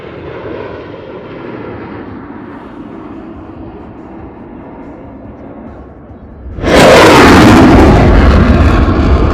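An aircraft engine during an air show takeoff roll at the Cleveland Ohio Air Show, a low rumble that suddenly swells into a loud, close, roaring broadband blast of engine noise that carries on steadily.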